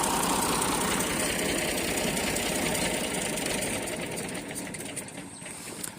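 A stuck tractor's engine idles with a steady, throbbing low rumble and mechanical knocking, fading slightly toward the end.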